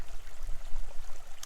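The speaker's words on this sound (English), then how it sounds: "I've come down to this brook" A moorland brook in the Peak District runs close by, a soft, continuous wash of trickling water with gentle swells and no voices.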